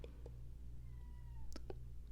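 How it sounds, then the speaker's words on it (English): A house cat lets out a few short, soft meows in a quiet indoor room, with a low steady hum underneath. "oh, there's my cat."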